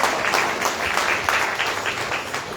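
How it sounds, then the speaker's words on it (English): A congregation at a Christmas sermon applauds, a soft, blurred wash of clapping that holds steady for a couple of seconds without voices. "Give the Lord a big round of applause."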